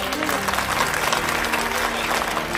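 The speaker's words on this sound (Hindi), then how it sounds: "ताली बजावा सब जने।" A rally crowd in Delhi applauds steadily and loudly, dense clapping filling the space for a few seconds with a murmur of voices under it.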